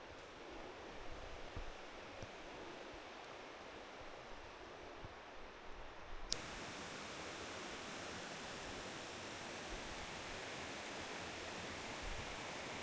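A mountain creek beside the rocky trail up Kings Peak rushes steadily in a continuous broadband wash, close and unbroken, growing slightly fuller partway through.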